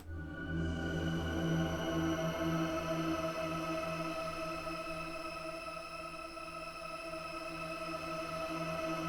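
A reversed reverb effect made in music production forms a sustained, shimmering wash of steady layered tones that hangs at an even, soft level throughout, with no voices.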